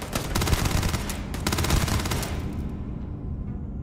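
Dense rapid gunfire from a newly picked-up gun in the space role-playing game Starfield, loud bursts of repeated shots for about two and a half seconds before fading into a dull rumble.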